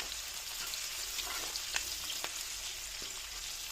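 Chopped onion and green chilli sizzling in oil left over from frying fish, an even crackling hiss with scattered small spits and pops, close and moderately quiet.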